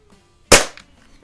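A single shot from a compact spring air rifle, a Gamo Expo or Slavia 618, gives one sharp, fairly quiet crack with a brief springy tail, close and alone in a quiet setting.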